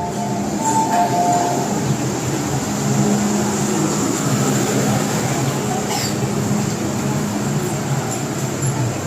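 An MTR M-train running on the Island Line between Central and Kennedy Town gives a steady, loud rumble of wheels and motors throughout, with a high hum overhead and no speech.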